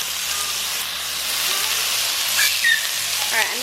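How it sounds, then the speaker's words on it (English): Vegetables poured into a hot Dutch oven give a close, continuous sizzle over a few seconds. A few brief stirring scrapes come near the end. "I'm going to just pour all of our veggies into there and let them simmer and kind of soften"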